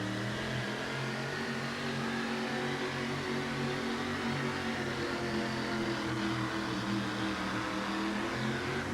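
A Ford monster truck engine racing on the track at a 1988 USHRA event in Kansas City, a loud, steady, unbroken roar that holds for the whole stretch.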